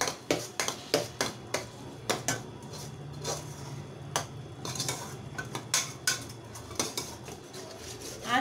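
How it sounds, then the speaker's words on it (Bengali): A spoon clinks and scrapes against a pan while chicken curry with chilli powder and spices is stirred, giving sharp, irregular knocks over a low background, with no talk. "একটু মিক্সড করবো।"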